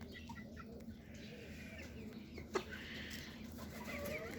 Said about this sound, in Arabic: هذا الدجاج السلطاني، هذا الدجاجين كعكات